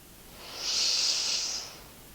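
One slow, deep breath drawn in through the nose during a gentle morning yoga stretch, a soft airy hiss that swells and then fades over about two seconds, close and alone.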